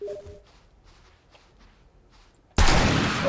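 Quiet footsteps tap for a couple of seconds, then a single loud gunshot blasts and rumbles on briefly, in the video game 7 Days to Die.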